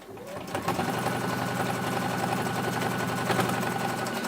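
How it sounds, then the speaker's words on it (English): A domestic sewing machine runs steadily, top stitching a glitter fabric pouch with a fast, even mechanical whirr and rhythmic clatter, close and loud throughout with no talk. "Right, so I'm just top stitching this down."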